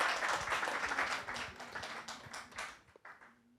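Audience applause fills a room of about a hundred people at a Bitcoin debate, dense broadband clapping that gradually thins out and tapers toward the end, with a faint voice emerging near the close.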